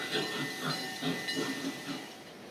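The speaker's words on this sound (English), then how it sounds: "And here comes a train now." A train passes at the Busch Gardens theme park, a soft, steady hissing rumble with gentle pulses of clatter rising and fading, heard at a modest distance with no talking.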